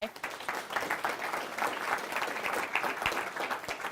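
Audience applauding a team at a company event, a steady wash of clapping lasting the whole few seconds, fairly distant and moderately loud with no talk over it.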